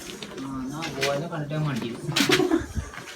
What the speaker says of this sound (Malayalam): പ്രാവല്ല, പ്രാവുണ്ട്, വവ്വാലുണ്ട് അവിടെ.